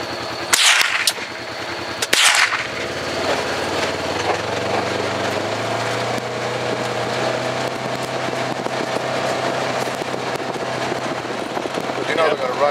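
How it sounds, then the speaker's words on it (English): Two loud nearby gunshots ring out early during a nighttime raccoon hunt on a ranch, followed by a steady engine hum and people talking. "Shoot this one first."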